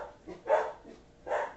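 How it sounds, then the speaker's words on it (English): Two short dog barks ring out at moderate distance from inside a house, spaced about a second apart. "Don't mind my doggies barking at whatever's outside."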